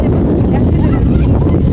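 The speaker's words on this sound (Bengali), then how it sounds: "কি সুন্দর বাতাস না?" Wind gusts outdoors beside a roadside mango tree, buffeting the microphone as a loud, steady low rumble throughout.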